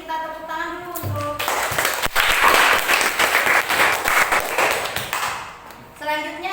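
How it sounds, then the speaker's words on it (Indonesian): A classroom applauds after a group presentation on acids and bases, a burst of many hands clapping that swells and fades, with a voice speaking briefly before and after. "Kita tepuk tangan dulu untuk."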